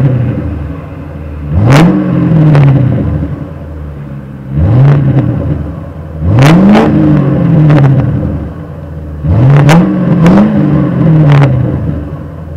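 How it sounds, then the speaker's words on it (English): A 1996 Ford Crown Victoria police package with glass pack exhaust, heard from right behind the car: three loud rev blips that swell and drop back toward a low idle rumble between them. "we'll listen to the glass packs from right behind the car"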